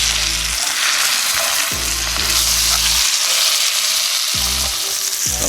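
Salmon steak fries in butter in a pan, a loud, steady sizzle and crackle running throughout, with a few low clanks of the pan and utensils breaking in; no one talks.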